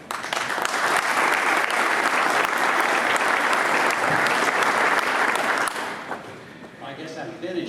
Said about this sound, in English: You applauded.